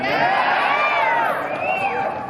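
Rally crowd in Denver cheering and whooping loudly, a dense continuous roar of voices with rising shouts throughout.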